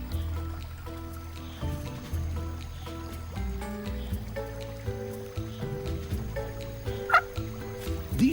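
Picathartes birds call at their mud nest in the Congo rainforest, a series of repeated tonal, gobbling notes near the microphone amid a dense forest ambience.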